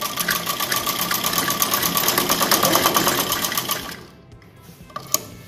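A domestic sewing machine stitches a shoulder seam on a garment during tailoring work. It gives a loud, rapid, steady mechanical chatter for about four seconds, then stops, leaving a faint quiet followed by a single small click.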